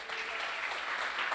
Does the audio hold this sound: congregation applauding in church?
yes